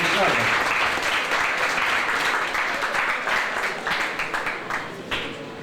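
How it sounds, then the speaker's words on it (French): Audience applause after a presentation at a career expo in Haiti, a dense, steady roar of many hands that fills the room, then thins into scattered claps toward the end. "je demande une fois de plus de l'applaudir des fois pour cette présentation magistrale"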